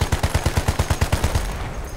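Gunfire in the Battlefield 1 multiplayer game, a loud, close run of about a dozen evenly spaced shots over a second and a half, then a brief tail.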